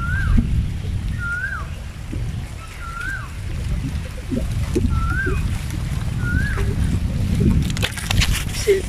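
Strong wind gusts outdoors produce a heavy, continuous low rumble across the microphone, with repeated chirping bird calls heard above it.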